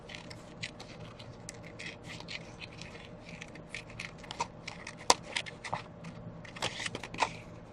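Scissors cutting paper for a mixed media art journal page, small quick snips and rustles in irregular bursts, close and fairly quiet, no talking.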